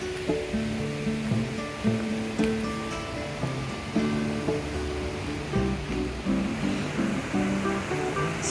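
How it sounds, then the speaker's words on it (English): Conwy Falls on the River Conwy in Wales pours in a constant rushing wash, heard from a distance with brief tonal sounds laid over it. "So Conwy Falls is obviously a waterfall located on the River Conwy"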